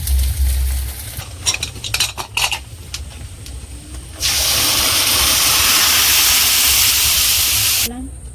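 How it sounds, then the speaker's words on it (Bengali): Cumin seeds tempered in hot oil with shredded coconut added, a few clinks of a utensil on the pan, then a loud sustained frying hiss that stops abruptly near the end. "জিরাফোড়ন আবার সব নারকেল কুচিগুলো দিয়ে দিতে হবে"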